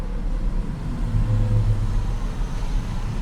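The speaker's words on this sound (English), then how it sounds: "There's a car coming down the lane here." A car rolls along a lane in a Best Buy or Target parking lot, a steady close engine and tyre rumble with a slight swell midway, with no voices.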